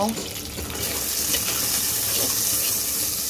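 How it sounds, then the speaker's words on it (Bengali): Onions with two cloves of garlic drop into hot oil and fry with a loud, steady sizzle and hiss that builds and holds, close up in a home kitchen while fish curry with tomato and eggplant is being made. "এই আমি তেলের মধ্যে দিয়ে দিলাম। পেঁয়াজটাকে খুব সুন্দর করে ভেজে নেব।"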